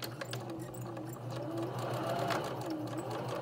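Sewing machine stitching along a pocket edge, a continuous close mechanical hum and whir with fine rapid needle ticks, running steadily throughout without pause.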